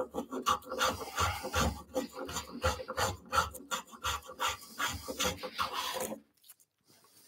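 A hand plane takes thick shavings off a wooden board, rasping in a steady run of close, loud back-and-forth strokes that stop abruptly near the end.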